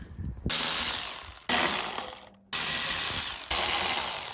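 A hand ratchet works bolts out of a Toyota Tundra radiator in four rapid clicking bursts, each fading out, with a short pause before the third, close up and alone.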